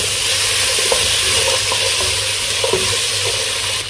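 Potatoes fry in a pan, giving a steady, close sizzle with a few soft stirring scrapes and no talking.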